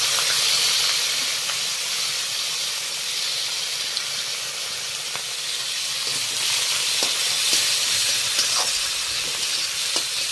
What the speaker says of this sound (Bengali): দেবো জিরা, একটা শুকনো মরিচ আর তেজপাতা, আর এটাতে পেঁয়াজ দিয়ে দেবো।